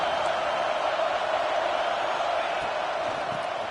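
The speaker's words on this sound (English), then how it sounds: "Listen to the crowd energy here in the early going." Dense, steady roar of a packed stadium crowd at a college football game, Clemson versus Georgia, in the early going, sustained and loud with no distinct peaks across the span.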